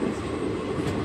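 Passenger train pulling out of Sihor junction on the Bhavnagar to Jetalsar line, a loud steady rumble of rolling wheels and carriage noise heard up close, with no voices.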